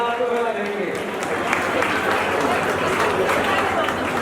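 Audience applause at a Rajput Kshatriya community ceremony honouring teachers and students in Chhattisgarh, a dense, steady wash of clapping that fills the hall evenly throughout, with some talk and crowd murmur mixed in.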